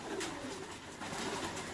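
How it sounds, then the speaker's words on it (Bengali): Desi pigeons cooing at a pigeon farm, a soft, steady murmur of several birds close by with no talk over it. "এইটা হলো অরিজিনাল দেশি কবুতরের খামার"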